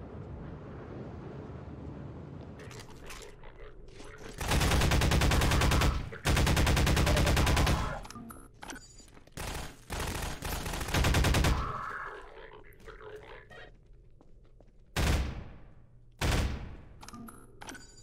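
Gunfire from a weapon in the video game Half-Life 2, loud sustained bursts of rapid shots with short single blasts and gaps between them, under wind-like background noise.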